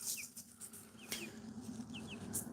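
Backyard barred rock chickens and roosters clucking nearby, with short bright chirps and clucks repeating irregularly over a steady low farmyard hum.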